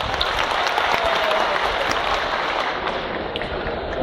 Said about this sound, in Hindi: एक बार तालियां बजा दें प्यार से